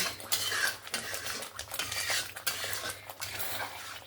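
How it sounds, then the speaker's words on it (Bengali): Spice masala being stirred and fried in a pan for katla fish kalia, with a spoon scraping and clinking against the metal in a steady rhythm over a soft sizzle, close and moderately loud. "আমি মশলাটাকে আরও দশ মিনিটের মতন ভালো করে কষিয়ে নেব"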